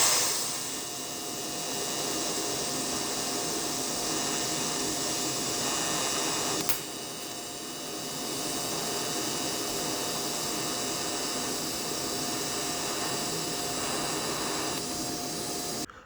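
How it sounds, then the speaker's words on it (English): Two pieces of metal are TIG welded together for a ceiling hook, producing a steady, even hiss and buzz that runs unbroken for about sixteen seconds with one brief sharp break partway through. "I will be TIG welding."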